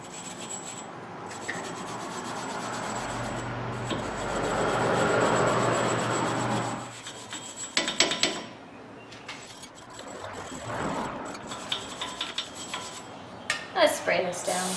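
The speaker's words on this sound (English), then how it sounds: "I'm just going to use a wire brush and some." A wire brush scrubs a front wheel bearing and hub on a 2007 Chevy Malibu with steady close rubbing and scraping, followed by sporadic metallic clinks and knocks, with quiet talk at times.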